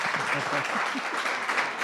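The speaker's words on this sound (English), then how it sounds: "Can we get another round of applause for this?" Audience at a fireside chat applauding, a brief burst of clapping with a voice speaking over it.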